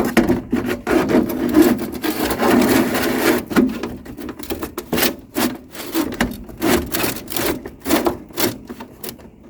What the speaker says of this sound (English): cut an 1/8 of an inch off of this and another inch back here